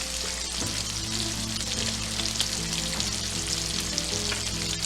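Sausage and red onions sauté in a pan for seafood paella, a steady, loud frying hiss running unbroken throughout with faint tonal hum beneath.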